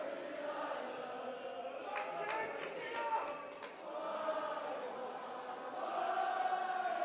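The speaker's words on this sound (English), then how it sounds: "the crowd in full voice" A rugby league cup crowd at a North Wales versus Doncaster match chants in full voice, a sustained rolling swell of massed voices with a louder, brighter burst midway and rising again near the end, over steady stadium murmur.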